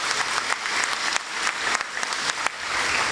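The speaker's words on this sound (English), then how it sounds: "I think they deserve a better round of applause." Audience claps together at a school prize giving day, a thick, lively patter with distinct loud claps punctuating the steady applause throughout.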